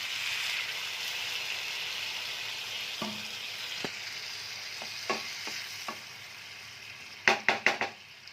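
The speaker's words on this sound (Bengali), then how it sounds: "এবার আমি এটাকে মিশ্রণটাকে নাড়িয়ে নেব।" Coconut vegetable curry mixture stirred in a pan, a low background sizzle broken by scattered scraping strokes, ending with a quick burst of four or five louder clattering stirs.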